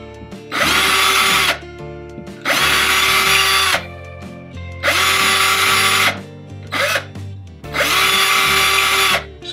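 A power drill enlarges holes in drywall in four loud whirring bursts, each lasting about a second or more, separated by short pauses with faint handling noises.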